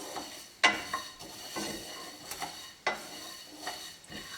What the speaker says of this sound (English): So keep stirring, and mind you, this pan is dry, there's no oils or anything in it.